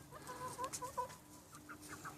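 Young backyard chickens in a permaculture garden cluck softly in short, quick bursts, several quiet calls close by against low background noise.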